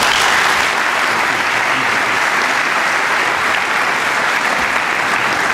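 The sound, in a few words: audience applause welcoming commencement speaker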